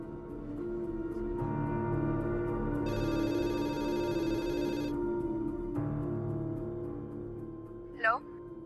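A telephone rings on a redialed call, with repeated electronic ringing bursts that stand out clearly over a steady background tone, followed by a short chirp near the end.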